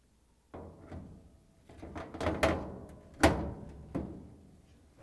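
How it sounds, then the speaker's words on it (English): Several irregular knocks and clunks of a metal Whirlpool, KitchenAid or Maytag appliance door being handled and set into place under its hinges, with short scraping contacts between them. "Place the door under the hinges."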